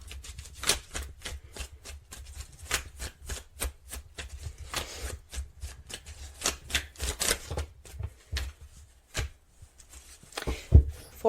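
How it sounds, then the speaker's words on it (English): Tarot cards are shuffled by hand in quick bursts of crisp riffling and flicking, close and fairly soft, with short pauses between passes. "Put the cards back in. I'll shuffle them once more."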